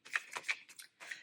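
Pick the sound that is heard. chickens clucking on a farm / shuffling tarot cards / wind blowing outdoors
shuffling tarot cards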